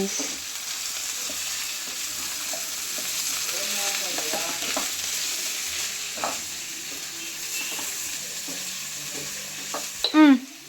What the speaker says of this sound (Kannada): ನಾವು ಹೆಚ್ಚಿಟ್ಕೊಂಡಿರುವಂಥ ಪೊಟ್ಯಾಟೋನ ಹಾಕ್ತಾ ಇದ್ದೀನಿ ಫ್ರೈ ಮಾಡ್ಕೊಳ್ಳೋದು